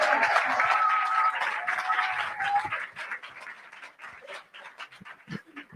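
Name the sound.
audience applause for St. Maarten Academy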